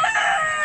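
A rooster kept by a family in Agusan crows in a single short, strained call, moderately loud and alone, with no talk over it.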